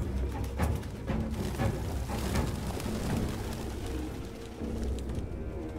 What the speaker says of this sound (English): Damn fucking pigeons!